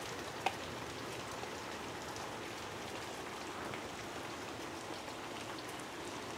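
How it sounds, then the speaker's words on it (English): Heavy snow falls outdoors in Washington State in the Pacific Northwest, making a steady, soft hiss like light rain with no voices. "right now it's snowing outside"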